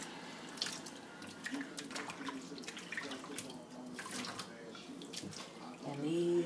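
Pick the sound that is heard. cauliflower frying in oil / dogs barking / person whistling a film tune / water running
water running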